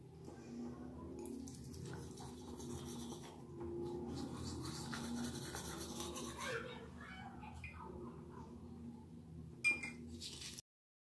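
A toothbrush scrubs teeth loaded with toothpaste and a little black charcoal, a faint, close, continuous wet brushing that shifts in rhythm, ending with a brief clink just before it stops.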